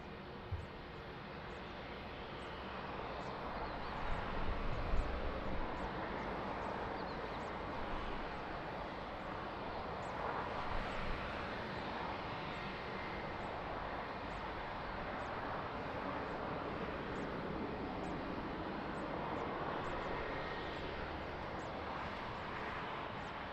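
A fixed-wing airliner departs from runway 20 at Lisbon Airport, its engines giving a steady, broad roar that holds at a fairly even level for about twenty seconds, with no voices over it.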